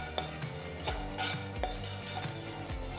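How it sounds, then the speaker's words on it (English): Golden raisins roasting in ghee in a pan, with a steady low sizzle under repeated scraping and clinking of a utensil against the metal pan, close and fairly quiet. "I'm going to finally roast the raisins."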